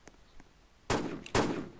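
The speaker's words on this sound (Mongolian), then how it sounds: "Одоо ингэж байгаа нэгээ буудаж ална." Two loud, sharp video game gunshots ring out about half a second apart, each with a brief crackling tail, over a quiet background.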